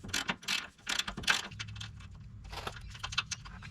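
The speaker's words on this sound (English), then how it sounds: "So we're going to undo this bolt with a 12mm socket." Ratchet with a 12mm socket undoing a bolt on the cross member behind the rear differential of a Toyota Land Cruiser 100 Series, giving bursts of close, sharp metallic clicking with short pauses between strokes.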